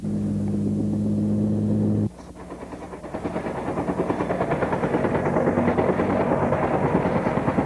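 Helicopter supporting tunnel construction at the Ertzberg mine in Tembagapura, Irian Jaya, Indonesia: a steady rotor throb with rapid rhythmic chopping that grows denser and louder after a brief drop, with no voices.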